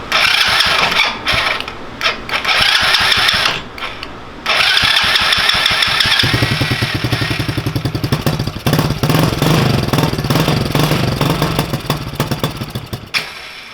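A 110cc engine on a Coleman mini bike is cranked with a rigged battery, then catches and runs rough, a loud uneven mechanical clatter and rumble with some rattling from about six seconds to the end.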